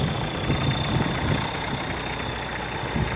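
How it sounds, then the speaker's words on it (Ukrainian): A Kubota GT5 compact tractor with a rotary tiller idles steadily, a low even engine drone with a faint high whine, running alone at close range without voices. "Тихенько робить фреза."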